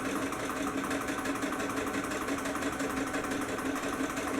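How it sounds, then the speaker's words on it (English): A sewing machine running steadily while stitching paperbag pants, giving a continuous close mechanical hum and rapid needle chatter for the whole stretch, without pauses or voices. "so now I'm just going to start sewing"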